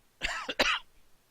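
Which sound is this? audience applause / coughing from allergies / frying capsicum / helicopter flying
coughing from allergies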